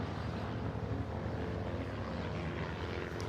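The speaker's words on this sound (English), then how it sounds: "The aircraft you see here are the Vans RV-8, a two-seat tandem aircraft, extremely versatile" A Van's RV-8 two-seat tandem propeller plane flying at a naval air station air show, a steady loud engine and propeller drone holding evenly throughout.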